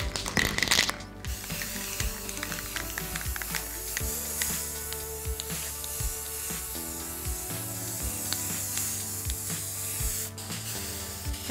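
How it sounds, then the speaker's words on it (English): A can of brown spray paint hisses steadily while coating a wicker-wrapped bathroom mirror frame, a continuous soft spray with faint rattling and mechanical clicks underneath and no speech. "I picked up a can of spray paint that is similar to the brown of my wicker cord. And I'm going to give it a quick little coat"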